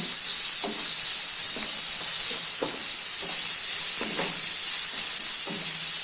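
Finely chopped onions fry in oil with spices over a medium flame, giving a steady bright sizzle and hiss, broken by regular scraping stirs against the pan about once a second.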